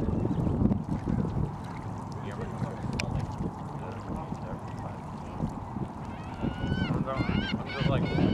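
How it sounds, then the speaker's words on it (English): Geese honk near water in Kamloops, a repeated nasal honking against a steady noisy background with water and other waterfowl sounds. "Oh, you're a goose, I'm sorry."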